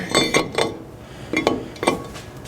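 A new brake rotor on a first-generation Toyota Tacoma wheel hub, giving several bright metallic clinks and taps in two short clusters, close and fairly loud, with no talking.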